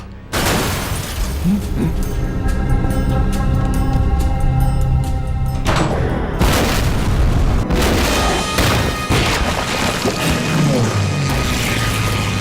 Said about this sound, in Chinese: 日本军机的轰炸还是比想象中来得更快、更猛烈